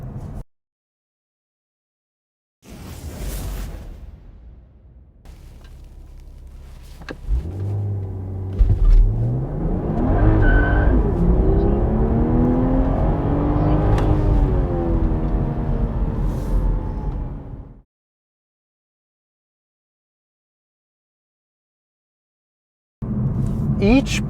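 MKV Toyota GR Supra on an ethanol flex-fuel tune doing a launch-control acceleration run: engine revs build, then a loud rising roar pulls through several gear changes for about ten seconds before cutting off abruptly.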